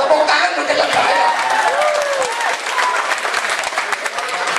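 Applause from an audience at a national cultural seminar, a broad wash of clapping that stays fairly even throughout, with some crowd noise mixed in.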